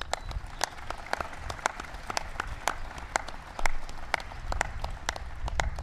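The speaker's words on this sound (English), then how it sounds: "give Paul a big round of applause" Scattered applause from an audience at a White House ceremony honoring a NASCAR Sprint Cup champion, individual claps distinct and irregular, moderately quiet, with a faint room murmur beneath.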